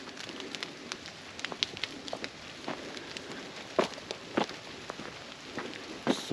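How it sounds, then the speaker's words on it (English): Steady patter of raindrops dripping onto leaves in a forest, with irregular louder drops standing out against a soft continuous background of falling rain, close and quiet. "Gotta love raindrops on leaves in the forest."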